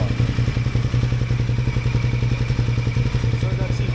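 A motorcycle engine runs steadily up close, a low throbbing hum with rapid even pulses and a faint clattering edge throughout.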